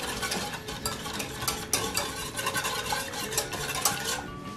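A whisk stirs egg yolk, sugar and milk in a bowl, giving a steady, close scraping and clinking with quick rhythmic strokes and no voices.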